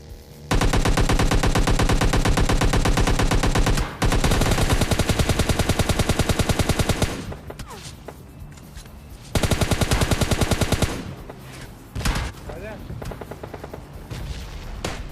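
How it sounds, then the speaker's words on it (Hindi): Automatic rifle fire in the battle-royale video game PUBG, long rapid bursts of loud, dense shots broken by short pauses and a few scattered single reports near the end, with faint voices underneath. "लेफ्ट राइट कहीं कहीं गोलियां चल रही हैं"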